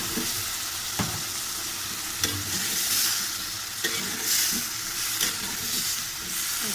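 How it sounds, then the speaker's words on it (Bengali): Prawns frying with chili and spices as sweet jackfruit is added, a steady close sizzle with intermittent stirring scrapes and clacks of a spoon against the pan. "আবার মরিচ মশলা দিয়ে চিংড়ি মাছগুলো কষিয়ে নিলাম, দিয়ে দিচ্ছি মিষ্টি কাঁঠাল"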